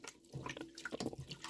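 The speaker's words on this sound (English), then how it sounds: "So this is just me rinsing it out with some nice warm water" Warm water splashes and trickles as a tanned animal hide, alum-tanned, is rinsed out in a sink, a faint, brief burst of soft watery sloshing with no voices.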